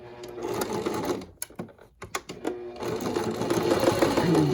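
A sewing machine stitches elastic onto a washable fabric face mask, running in a steady whir, breaking into short stop-start bursts in the middle, then running continuously again, close and loud with no speech.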